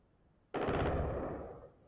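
Gunfire in Tehran carried over a live broadcast erupts abruptly as a sustained rapid burst, loud and continuous for about a second before cutting back to a low background hum.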